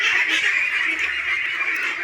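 Young ducklings quacking and peeping in a dense, continuous chorus, close by and fairly loud, with no clear pauses.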